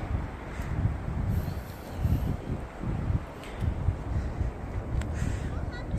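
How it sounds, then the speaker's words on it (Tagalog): Outdoor wind gusts buffet the microphone at National Trust Formby with low rumbling rushes that rise and fall unevenly over several seconds, fairly close and moderately loud. "Maririnig mo lang yung tunog ng hangin,"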